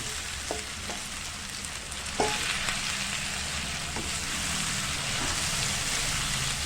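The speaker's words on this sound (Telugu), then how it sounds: "ఇప్పుడు దీంట్లో ఈ బెండకాయలు మనము శనగపిండి వేసుకున్నాం కదా, ఇప్పుడు దీంట్లో కొంచెం ఫ్రై లాగా చేసుకుందాం" Okra coated in gram flour frying in oil, giving a steady broadband sizzle throughout with a few sharp clicks of a spoon against the pan, close and fairly loud, no voices.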